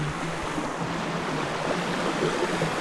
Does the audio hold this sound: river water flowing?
yes